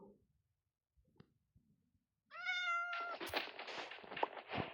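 A single drawn-out cat meow from a video game rises out of near silence, followed by a brief scratchy, breathy trailing sound.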